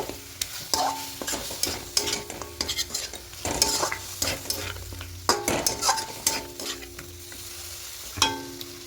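Chicken being stirred with whipped yogurt in a pan, cooked without oil: repeated scraping spoon strokes and clinks over a steady sizzle, close and fairly loud, with no talking.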